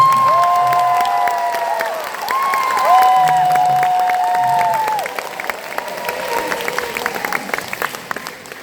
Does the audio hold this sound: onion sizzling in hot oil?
no